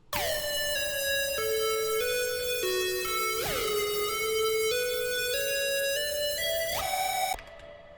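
A second synth lead pattern, harsher and more distorted in places, plays stepped falling notes with bright gliding accents, loud and alone, then stops sharply near the end.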